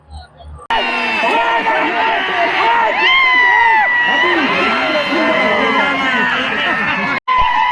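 Fans of a bullock cart pair roar and cheer after the pair qualifies for a race final, a loud, dense crowd of shouting voices that carries on nonstop after a brief quiet start.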